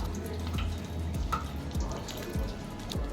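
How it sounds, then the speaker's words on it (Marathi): Chopped taro stalks are rinsed in a bowl of water, giving soft repeated splashes and drips at a steady hand-washing rhythm, close and fairly quiet. "एका बाऊलमध्ये घेऊन याला स्वच्छ धुवून घ्या"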